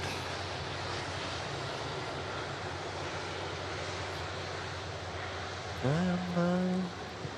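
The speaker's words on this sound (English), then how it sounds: "There is a ATR coming in next to land." An ATR turboprop comes in to land at Manchester Airport, a steady, faint, distant engine drone under a wash of wind and background noise, with a brief spoken voice near the end.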